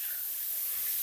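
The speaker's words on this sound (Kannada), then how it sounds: "ಈಗ ತುರಿದಿರೋ ಕ್ಯಾರೆಟ್ ಹಾಕ್ಕೊಳ್ಳಿ ಅದೇ ತುಪ್ಪಕ್ಕೆ." Grated carrot hitting hot ghee in a pan on high flame gives a steady, even hiss of sizzling, close and moderately soft, heard alone for about a second.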